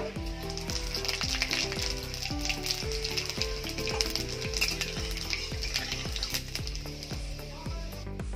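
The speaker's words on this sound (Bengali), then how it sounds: "এই তেলের মধ্যে 5 ফোড়ন দিয়ে দেব।" Panch phoron spices fry in hot oil with a loud, continuous sizzle and crackle, while a steady rhythmic knocking runs underneath throughout. No talking.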